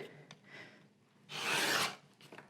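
A fabric strip is cut along a quilting ruler for a table runner, giving one steady rasping cut of about half a second, with quieter scraping before and after.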